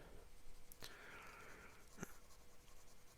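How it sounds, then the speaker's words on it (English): A Visconti Luxor Obelisk fountain pen with a wet medium nib scratches out an ink swatch on paper, soft, close scraping strokes with a couple of sharper ticks as the nib lifts and lands. "So, we'll do an ink swatch here. Now, this is a medium nib,"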